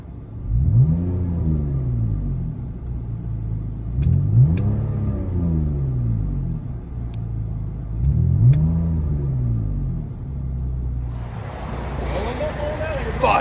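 A 2004 BMW 525i with a 2.5L inline-six and straight-pipe exhaust, heard from inside the cabin, revs three times in loud rumbling surges that fall back to idle, followed by a burst of rushing noise near the end.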